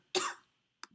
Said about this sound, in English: That was a healthy cough.